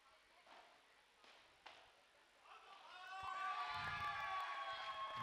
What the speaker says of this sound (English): You can hear the crowd cheering as Unawatuna makes his way to 6.